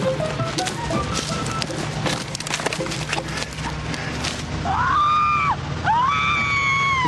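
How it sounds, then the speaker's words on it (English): Clattering, splintering knocks give way to two long, wavering screams with an electronic, reverberant edge, as if played through loudspeakers. "They record the screams and then play them back to scare people out of the hollow"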